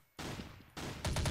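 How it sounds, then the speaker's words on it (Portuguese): Gunfire in the shooter game Blood Strike, with two loud sustained bursts followed by rapid rhythmic shots from an automatic weapon, close and punchy. "Tomou dois tiros, tomou três tiros"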